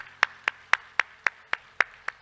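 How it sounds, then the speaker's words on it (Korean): A church congregation applauds with steady rhythmic clapping, about nine sharp even claps in a row, fairly close and moderately loud, with no voices. "우리 하나님께 영광의 박수합시다"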